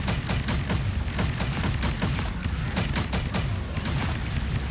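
Rapid gunfire from summoned minions in the video game Marvel Rivals, a dense fusillade of overlapping shots and bursts that stays loud and continuous throughout, with no talking.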